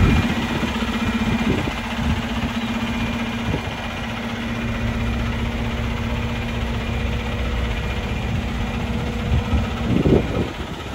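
A Volvo truck fitted with a Cummins engine idles with a steady, even diesel rumble and a constant low hum, close by and unbroken, with a few faint knocks and clunks near the end.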